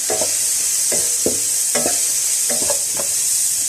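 Vegetable macaroni with salt gets stirred in a frying pan, a loud continuous sizzle with a regular series of scraping spoon strokes close by, about one per second, and no talking.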